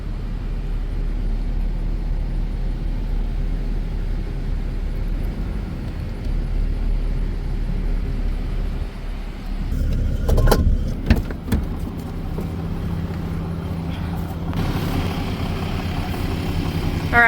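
A farm vehicle engine drives between sets of hay bales in the field, producing a steady, loud, continuous low rumble throughout, with a few louder bumps and rattles around the middle.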